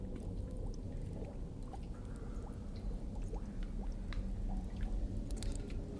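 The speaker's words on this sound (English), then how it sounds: "if you could just pour it in slowly while I" Liquid is poured slowly into a blending mixture while cooking, with soft wet squishing, dripping and trickling sounds over a low rumble, quiet and close, with no talk.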